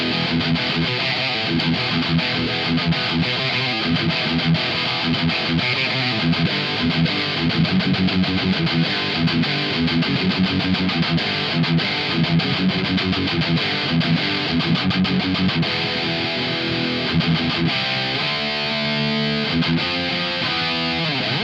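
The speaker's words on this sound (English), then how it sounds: "But the rhythm tone on its own, unaccompanied, sounds like this." Heavily distorted electric guitar through a Boss Katana MkII amp plays a chunky rhythm part alone, loud and sustained with a thick, saturated tone and lots of ambience.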